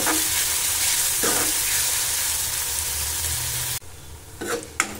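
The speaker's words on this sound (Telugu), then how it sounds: "ఇలా మధ్య మధ్యలో కలుపుతూ వేయించుకోవాలి" Chicken pieces frying in a pan give off a loud, dense sizzle, with a few scraping stirs; the hiss suddenly drops away near the end, leaving quieter stirring and clatter.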